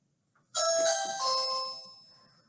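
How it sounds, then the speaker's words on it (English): A doorbell chimes once with a bright ding-dong that rings out clearly in a quiet room during a calm yoga session, its tones lingering and fading over about two seconds. "That's the doorbell."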